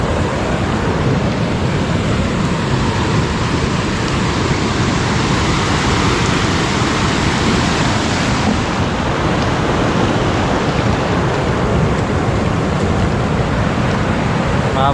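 Rushing floodwater during a typhoon pours in a dense, loud, unbroken roar close by, with wind buffeting mixed in and a voice faintly audible beneath it.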